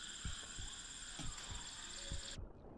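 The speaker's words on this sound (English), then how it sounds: "Oh, I'm getting a heartbeat for oxygen." A low throbbing heartbeat pulse warns of low oxygen in the survival game The Isle, repeating at a steady irregular rhythm under a constant electronic hum that cuts out near the end.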